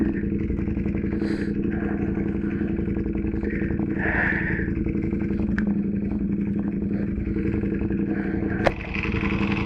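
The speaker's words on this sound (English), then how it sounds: "there's a bike next to me" A motorcycle idles and rumbles right alongside, a steady close engine drone holding throughout, with a sharp click near the end.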